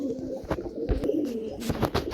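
Madrasi and Giribaz pigeons in a loft give a steady low cooing that runs throughout, with soft wing flutters and shuffling over it and nobody talking.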